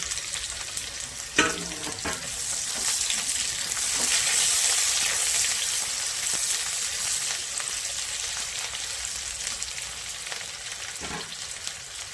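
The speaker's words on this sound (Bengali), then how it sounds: "এবার 3টে পেঁয়াজ, মিডিয়াম সাইজের পেঁয়াজ স্লাইস করে দিয়ে দিলাম।" Three sliced medium onions fry in hot oil with cardamom and cinnamon stick for chicken korma, giving a loud, steady sizzle throughout with a brief clatter as they go into the pan.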